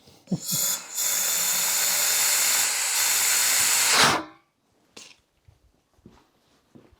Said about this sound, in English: Now I'm going to try to put some pressure onto the fuel tank itself using some compressed air.